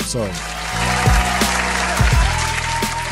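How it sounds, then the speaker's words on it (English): Applause sound effect played on a radio show: brief bursts of clapping mixed with electronic tones and other studio sounds, fairly loud and close. "Let me clap that up. Where's the clap?"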